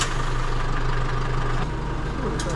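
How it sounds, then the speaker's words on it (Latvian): Car engines, delivered from Germany and including a BMW X5, Jeep and Audi A8, idle steadily with a low even hum and a faint whine, continuous and fairly close. "Motorīši tā smuki strādā."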